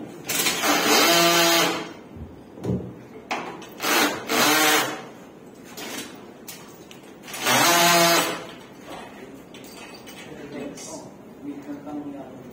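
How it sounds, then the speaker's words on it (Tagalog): A power tool tightens a fastener on a panel in three loud whirring bursts, with a person speaking in between. "ito yung maganda sa power tools. Pwede mo na siyang higpitan."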